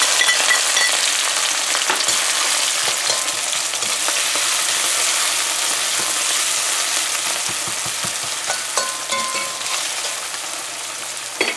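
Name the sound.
scallions and onions frying in hot oil in a karahi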